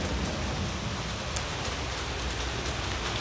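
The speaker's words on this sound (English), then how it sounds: "just standing out in the rain, getting pissed on by the rain with rifles" Heavy rain pours down outdoors in a dense, steady hiss, with a constant wash of drops striking surfaces close by and no one speaking.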